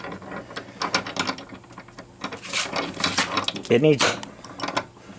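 A small old bench vise from a flea market being handled, with rattling, clicking metal mechanism sounds in bursts and a brief squeak of the turning screw, heard close up while someone talks.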